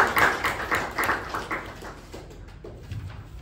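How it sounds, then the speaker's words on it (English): Audience at a Toastmasters club meeting applauds for a speaker, a burst of clapping that starts fairly loud and thins out, fading toward the end. "a thunderous round of applause to Toastmaster Saket"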